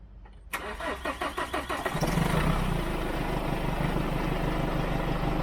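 A van's engine cranks briefly, then catches and settles into a steady, close idle hum with no voices over it.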